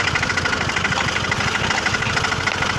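A tractor engine running in slow gear, a steady near and fairly loud idling chug with a regular low rhythmic knock and no talk.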